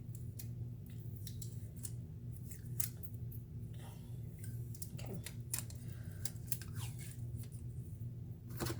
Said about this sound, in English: I just take a piece of tape, if I can get it going.